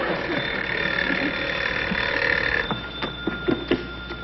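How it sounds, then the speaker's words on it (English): An old-time telephone bell rings steadily in a radio comedy program, a sustained bright jangle for about two and a half seconds before it stops and voices and light studio sounds take over. "Answer the phone."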